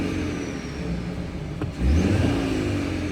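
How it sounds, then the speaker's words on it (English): A 2024 Mercedes-Benz C300 4Matic sedan with a turbo engine idles with a steady hum, then its engine rises sharply into a louder rev, heard close by. "We'll give it a few revs here."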